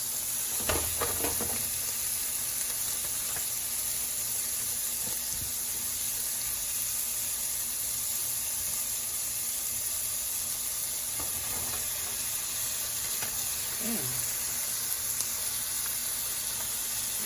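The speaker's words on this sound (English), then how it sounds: "I'm gonna go ahead and add in my 2 pounds of ground beef." Two pounds of ground beef browning in a pot for Texas-style chili, a steady broad sizzle with a few scraping stirs of a utensil near the start and again toward the end.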